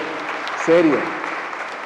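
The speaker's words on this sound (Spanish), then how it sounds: "Para dar um forte aplauso, muchachos." A church congregation at a service applauds in a steady, diffuse wash at moderate volume while a voice rises briefly over it.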